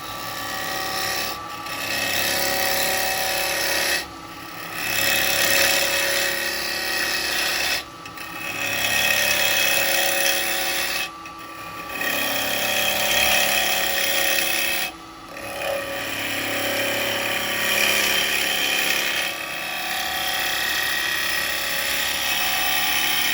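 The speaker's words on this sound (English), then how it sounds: "I want to go to a smaller 1/2 inch spindle gouge here, and now I'm going to just bring this round a little bit for some shape." A half-inch spindle gouge cuts a small yew pot on a wood lathe, giving a loud, steady rasping scrape that runs almost continuously, broken by brief pauses about every four seconds as the tool lifts off.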